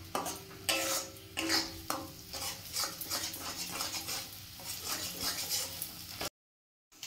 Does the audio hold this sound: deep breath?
no